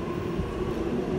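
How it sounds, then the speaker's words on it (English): Sydney train departing a platform at Chatswood station, a steady low rumble and rolling hum with a faint tonal whine, continuous and fairly close throughout, no talk. "Departing platform 3, the race is on."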